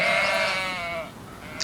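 Sheep and goats out grazing give a loud, wavering bleat close by that tapers off over about a second, with faint outdoor background noise behind it.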